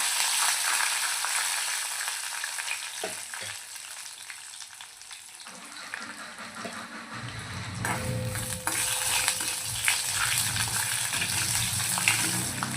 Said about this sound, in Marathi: तळून देऊया